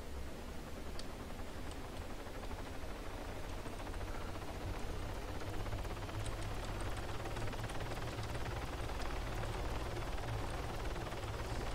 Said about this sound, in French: J'aime pas le double bruit d'hélico, ça fait trop mal aux oreilles